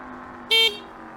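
A single short, bright horn honk from a Halo Knight T107 Pro electric scooter sounds up close, cutting briefly over a low steady hum.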